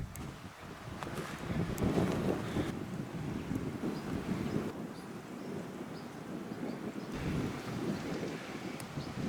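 Gusty wind buffets the microphone with a low, uneven roar that rises and falls over several seconds, with no voices, across burnt garrigue scrubland in southern France after a wildfire.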